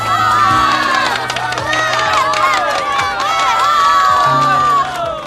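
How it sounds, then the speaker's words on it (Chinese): Office staff applauding and cheering to welcome a new boss, loud close clapping mixed with excited shouts and whoops from a crowded room. "鼓掌"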